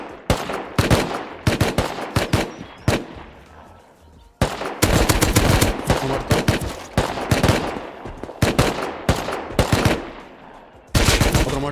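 Rapid automatic gunfire in the survival game Rust, loud bursts of many shots broken by short pauses, one brief quiet gap partway through and a final burst near the end, no voices.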